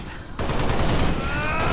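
Heavy gunfire erupts in a Halo: Reach battle near a hangar: a muffled rumble gives way to a loud, continuous barrage of overlapping shots that holds steady to the end.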